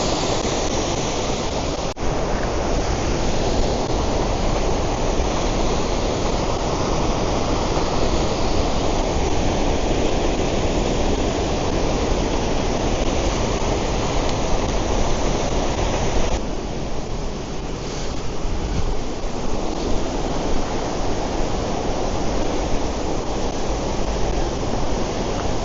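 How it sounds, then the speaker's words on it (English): Beezley waterfall at Ingleton, North Yorkshire, roars as a dense, steady rush of falling water, loud and close, continuous for the whole stretch with no one talking. "So this must be the Beazle"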